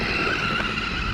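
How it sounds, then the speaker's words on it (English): A pickup truck fishtails and skids on a wet, wintry road, a steady broad rush of tire and engine noise without talk. "That's what it's doing. Fishtailing. Can't control it."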